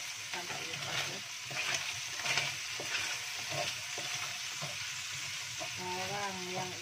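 Chopped onion frying and being stirred in a hot pan for a Hong Kong–style restaurant dish, a steady loud sizzle with scraping stir strokes throughout and a brief tonal squeal near the end.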